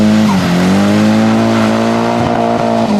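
A Nissan S14 drifts through a competition course, its engine droning at a steady pitch that dips and climbs again as it accelerates, with tire squeal layered over the loud, continuous roar.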